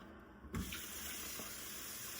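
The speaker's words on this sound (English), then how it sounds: "I guess I'm just gonna fill this up with water now." Tap water starts running into a thrifted cast iron Dutch oven at a sink, a sudden splash followed by a steady hissing, gurgling stream, close and alone without talk.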